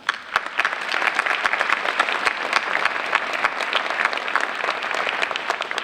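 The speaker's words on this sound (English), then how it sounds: "join us in a round of applause for the many people, businesses, and organizations making this special night possible" A large audience applauding steadily, dense clapping that holds at an even level throughout without pause.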